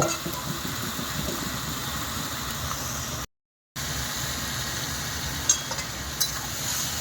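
Fish frying in oil in a pan, a steady crackling sizzle throughout with a brief gap partway, faint scraping stirs now and then.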